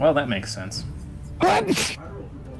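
A single sharp sneeze bursts out midway through a conversation during a livestreamed Final Fantasy XIV Stormblood playthrough. Voices talk before and after it, and one voice is audible just ahead of it.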